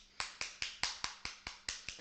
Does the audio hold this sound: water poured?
no